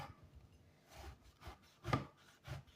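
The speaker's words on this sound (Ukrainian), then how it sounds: "я буду різати такими дрібненькими кубічками" A knife dices eggplant into small cubes on a cutting board for an eggplant salad, giving a few soft, quiet chops and rubbing strokes spaced irregularly, close by and alone.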